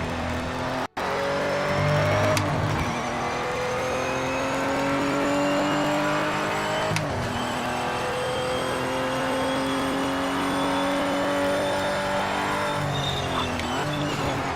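Race car engine in the racing game Project Motor Racing, a loud, close, high-pitched drone that rises and falls through gear changes as it accelerates out of turns, with faint tyre noise beneath.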